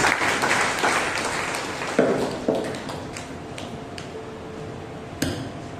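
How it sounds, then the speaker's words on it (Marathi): Loud applause at a prayer meeting, a dense wash of clapping that gradually thins out, with a few sharp individual claps near the end. "जोरदार टाळ्या पडत बोलाय."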